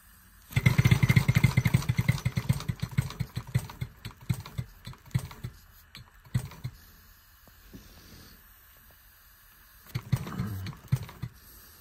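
A rebushed BSA Bantam motorcycle engine kicks into life and runs with a rapid, loud, close, uneven putter for a few seconds. It then drops to sporadic knocks and clanks before a short final burst.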